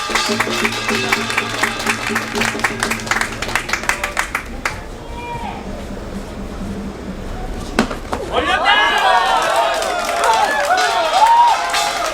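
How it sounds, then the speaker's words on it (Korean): At a Taekkyeon battle match, the crowd claps for the last competitor with a burst of rhythmic clapping and cheering. It gives way to quieter murmuring, then an announcer's amplified voice takes over near the end. "마지막 선수 위해서 큰 박수 한번 부탁드립니다"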